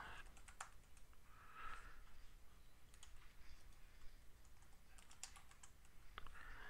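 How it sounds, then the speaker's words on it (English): Typing on a computer keyboard into a slide text box, bursts of quick light key clicks spaced across the span, soft and close with no talk. "you just click in the box, text box, and start typing"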